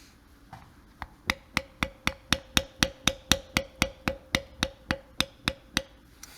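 Leather belt being beveled with a carving tool struck by a mallet, a rapid steady series of about eighteen sharp, close knocks at an even rhythm.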